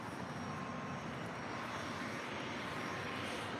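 A Boeing 787-9 Dreamliner jet airliner at LAX produces a continuous, even engine roar, steady and fairly distant-sounding throughout, with no speech over it.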